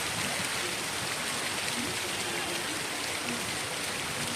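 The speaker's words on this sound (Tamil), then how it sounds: "மழையோட சத்தம் அழகாக கேட்குது" Sudden steady rain heard from beneath a tree, a dense continuous hiss of drops close by that holds at an even level throughout, with no voices.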